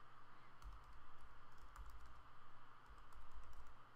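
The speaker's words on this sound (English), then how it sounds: "let's just go ahead and just type in the address of that page without my affiliate ID" Keys clatter on a computer keyboard as a web address is typed in, a quick run of close, crisp taps in bursts with short pauses and no talking.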